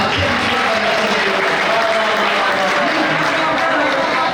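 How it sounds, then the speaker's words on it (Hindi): Loud, sustained applause from a mushaira poetry gathering crowd in Burhanpur, a dense unbroken roar of clapping with crowd noise and faint voices beneath. "क्या तालियां बजा सकते हैं आप?"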